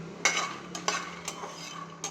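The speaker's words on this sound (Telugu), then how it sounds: "ఇట్లా డ్రై రోస్ట్ చేసుకోవాలి." Peanuts, dried red chilies and cumin being dry roasted in a pan, giving a quiet run of scraping and stirring clatters, several sharper knocks spaced through, with no talking.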